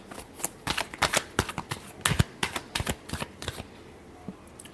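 Tarot cards being shuffled, a quick run of crisp, close riffling and slapping bursts in an irregular rhythm, fairly quiet, with no talking.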